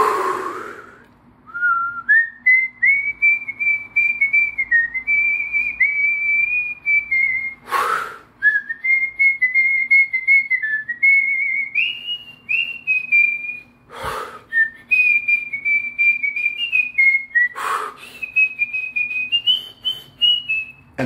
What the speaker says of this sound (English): So I can whistle entire songs inhaling. So instead of inhaling, I exhale.